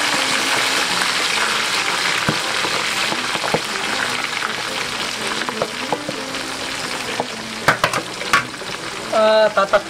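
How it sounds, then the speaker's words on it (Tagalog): Pork belly deep frying in oil on low heat makes a continuous bubbling sizzle, with scattered sharp pops and clinks, a few louder spatters toward the end, and faint talk in the background. "Siguro mga 10 to 15 minutes yon yung i-deep fry natin yung pork belly"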